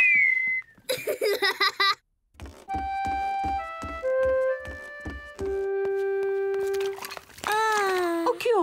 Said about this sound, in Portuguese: George consegue assobiar.